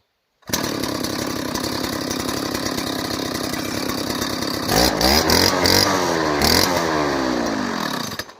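An Oleo-Mac Sparta 25 brush cutter engine, previously running unevenly, fires up abruptly and runs at a loud, steady buzz up close, then revs higher and rougher partway through before easing back.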